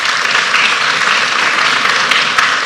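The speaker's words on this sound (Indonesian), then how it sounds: "Beri tepuk tangan buat Dokter Rianto." Steady, full applause from a studio audience welcoming a doctor on a health talk show, a continuous loud wash of many hands clapping with no break.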